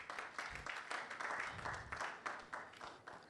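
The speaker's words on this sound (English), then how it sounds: "Please give her another big round of applause" Studio audience applause at the National Science and Maths Quiz balloting, a faint, soft wash of many hands clapping that swells and fades slightly, distant and low in level.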